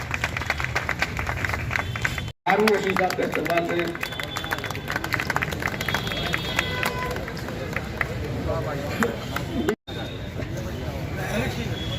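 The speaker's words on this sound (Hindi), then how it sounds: "आप लोग जोरदार तालियों से उनका स्वागत करें" Audience at an award ceremony applauds steadily, a long dense patter of clapping in a large room with crowd murmur and someone speaking over it.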